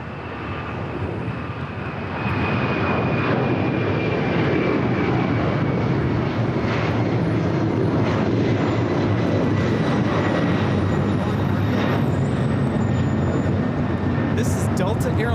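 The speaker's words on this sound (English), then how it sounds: "This is Delta Airlines 938 taking off to JFK on the 767-300ER." A Delta Airlines Boeing 767-300ER bound for JFK roars down the runway on takeoff at LAX, its loud, steady jet engine rumble swelling after two seconds and holding strong throughout, with a voice talking over it.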